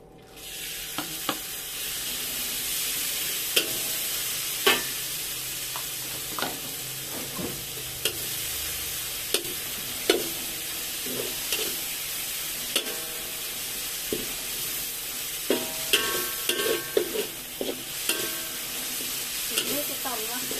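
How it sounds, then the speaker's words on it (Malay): Chili frying in a pan of oil over high heat, a steady loud sizzle and hiss that runs throughout, punctuated by irregular scraping and clacking as a utensil stirs the chilies. "Saya mau goreng itu cili."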